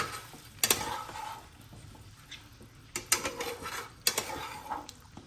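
Spoon scraping and clattering against a pot as tamarind is stirred into a jujube (kul) pickle, with a few sharp metallic knocks among softer scrapes and a quiet cooking hiss beneath, close by and with no talking.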